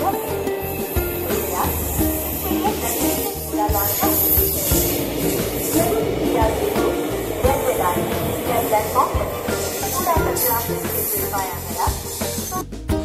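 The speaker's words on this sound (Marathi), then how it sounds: "आता मालाडवरून सुटणारी ट्रेन आता आपण पकडणार" A Mumbai fast commuter train from Malad roars and hisses continuously, its rattling, clattering noise staying loud throughout, with murmuring voices mixed into the din.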